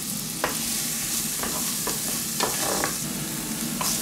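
Onions and garlic sweat in hot oil in a pan, giving a steady, close sizzle with occasional soft scrapes of stirring.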